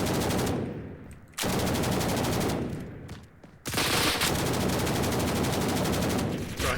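M249 machine gun in Blackhawk Rescue Mission 5 firing long, loud, rapid bursts close by, with the gunfire dropping out briefly between three sustained strings of shots.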